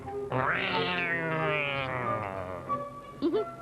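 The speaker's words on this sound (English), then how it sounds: "Sounds like a cat." A cat gives a long, drawn-out meow that rises and wavers, followed by a short, higher second mew, close and clear.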